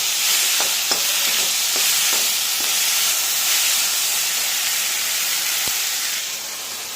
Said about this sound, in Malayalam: ഇത് വെണ്ടയ്ക്കായും ഉള്ളിയും പച്ചമുളകും കറിവേപ്പിലയും കൂടി എണ്ണയിൽ കടുകിട്ട് പൊട്ടിച്ച ശേഷം നന്നായി വഴറ്റിയെടുക്കുകയാണ്